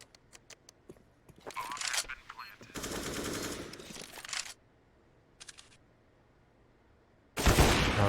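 Counter-Strike gunfire in a match on the Vertigo map, with short bursts of rapid shots, a longer sustained spray, a brief later volley and a loud closing burst, separated by quiet gaps.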